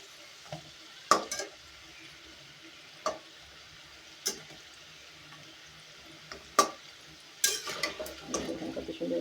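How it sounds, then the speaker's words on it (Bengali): Pitha cakes deep-frying slowly in oil give a faint, steady sizzle. Sharp clinks and scrapes of a utensil against the pan come every second or two, and a busier clatter follows near the end. "দেখুন আমি আস্তে আস্তে ডুবো তেলে ভাজা নিতেছি।"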